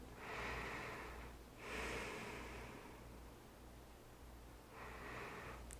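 Slow, deep breathing during a yoga stretch for the feet: three soft, airy breaths with quiet pauses between, close but faint.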